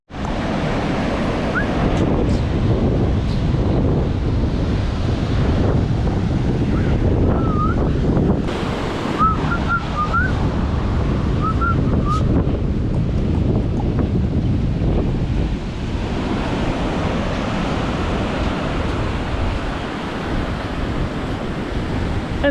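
Surf rolls onto a clean, quiet beach in South Goa near Palolem, with steady wind buffeting the microphone, a continuous loud wash of waves and a few faint high bird chirps in the middle.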